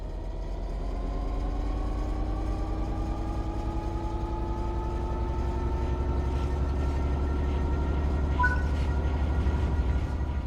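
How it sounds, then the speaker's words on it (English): A video game train engine hums steadily as it picks up speed under throttle, its rising tonal whine climbing gradually over a constant low rumble. "Apply some throttle to get the train moving."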